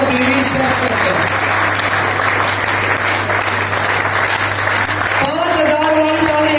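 Seminar audience in Jind breaks into loud, sustained applause, a thick roar of many hands clapping close by, with a voice and musical tones audible at the start and end over a steady low hum.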